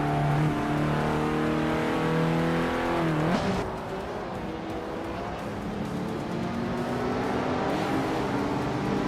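A classic 1956 Jaguar D-Type races in the 1950s sports car class of a racing game. Its engine revs up in a rising whine, drops sharply at a gear change, then pulls hard again, loud and continuous.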